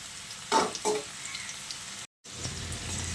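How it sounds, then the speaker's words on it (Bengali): Boiled potatoes, a second batch, frying in hot oil for a vegetarian aloo dum, giving a steady close sizzle with a couple of louder bursts and one brief dropout near the end. "দ্বিতীয় ব্যাচের আলুগুলো ভাজা হয়ে গেছে। এখন আমি এই আলুগুলোকেও তুলে নিচ্ছি।"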